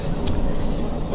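A local train on a mountain line in Gunma Prefecture, Japan, rumbling loudly and steadily along the rails from close by, a dense continuous roll with faint wheel noise.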